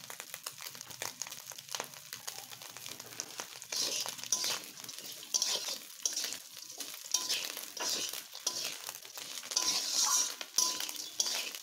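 Small puti fish fry in a pan with crackling sizzle while a utensil stirs and scrapes against the metal in irregular bursts, close and fairly loud, with no talking.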